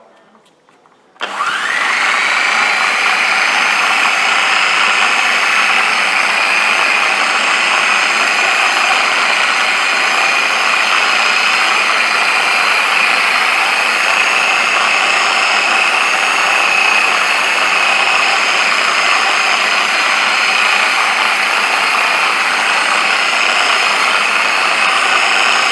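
A polishing machine fitted with a soft pad buffing chequer plate starts abruptly and runs at a loud, steady, high-pitched whine close by, continuing unbroken to the end with no speech.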